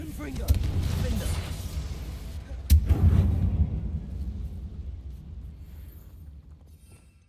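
Explosive Confringo blasting spell in the Hogwarts Legacy video game, a sharp loud blast followed by rumbling booms amid other combat effects, with a second burst shortly after and a low decaying rumble.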